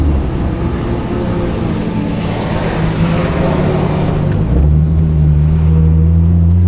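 Toyota Soarer engine held at full throttle with a slipping clutch and worn transmission, a loud steady drone with low harmonics shifting in pitch near the end, heard alone without voices.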